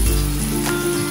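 Blended tomato sauce for a homemade beef lasagna sizzles steadily in a pan, a continuous close frying hiss with no talking.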